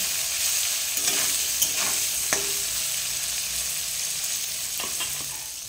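Sliced bitter gourd frying in a pan with oil and a little turmeric, a steady close sizzle throughout with occasional scraping stirs.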